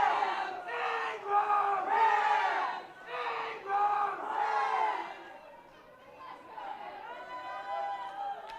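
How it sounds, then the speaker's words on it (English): Ingraham high school fans cheer loudly at a boys' state semifinal ultimate frisbee game against Franklin, rhythmic group chants rising and falling in bursts from a nearby sideline crowd, with voices and chatter mixed in. "you can hear the Ingram cheer pretty loud"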